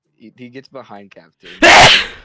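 A person speaks briefly, then lets out one loud, sharp sneeze close up that ends the clip.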